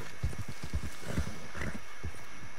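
Horse hooves in the video game Red Dead Redemption 2: a steady, rhythmic clip-clop of a walking horse, close and moderately loud over a faint background bed.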